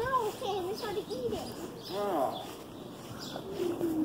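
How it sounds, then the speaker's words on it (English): A pigeon or dove coos on a roof, soft rounded calls repeating near and clear amid children's voices and light background bustle. "Oh, there's a bird. There's a bird."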